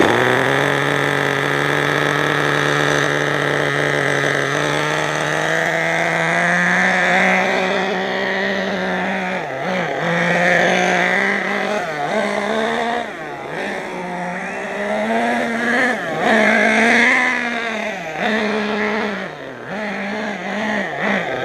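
A cold nitro engine runs after starting, warming up with a loud, continuous buzzing drone whose revs rise and waver unsteadily throughout.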